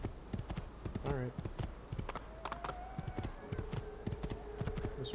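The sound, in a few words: horse galloping in Assassin's Creed 2 video game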